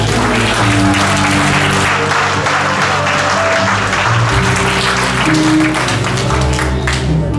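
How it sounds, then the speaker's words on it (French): A church congregation at a Sunday service claps loudly and continuously, dense applause filling the space, with a few voices and some music in the background. "On doit applaudir Seigneur."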